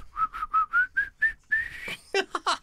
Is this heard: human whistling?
yes